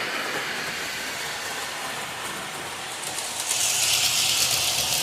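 An HO-scale Conrail model train set runs steadily with a continuous whirring rumble and faint clatter, growing slightly louder and brighter toward the end.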